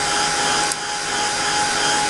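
A handheld craft heat tool blows hot air over distress ink on craft paper, producing a loud, steady, close whirring hiss with one brief dip partway through.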